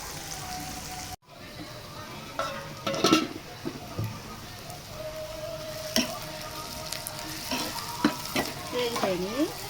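Plenty of chopped onions fry in a pan for capsicum egg curry, with a continuous soft sizzle and intermittent stirring scrapes and clinks from a spoon against the pan.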